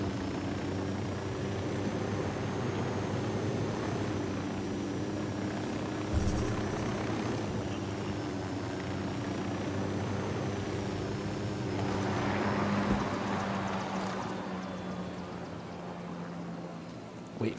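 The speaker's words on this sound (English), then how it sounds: "Wait for those blades to stop just to be safe." Helicopter in the video game Ghost Recon Wildlands with its rotor blades winding down: a continuous droning rotor hum with steady tonal engine whine, slowly easing off toward the end, no voices.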